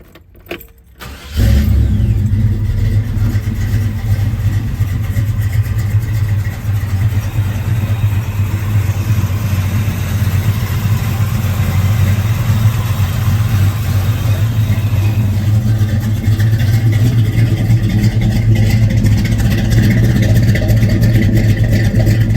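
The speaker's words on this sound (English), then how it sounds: "speaking of firing her up, let's do that, and then let's take her out for a spin" A 1966 Chevrolet Chevelle V8 cranks and fires after a brief rattle, then settles into a loud, steady, rumbling idle that carries on close by, with no talking.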